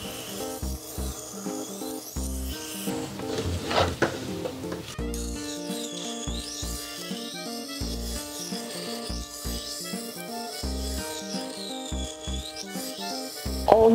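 A kitchen knife worked on a Tormek T-1 sharpener, giving a steady rhythmic rasping and scraping in repeated strokes, close and moderately loud, with no voices.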